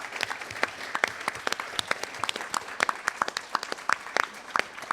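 Audience at a public health panel talk claps for the panelists, a moderate crowd of individual hand claps heard distinctly in a steady irregular patter with no talking.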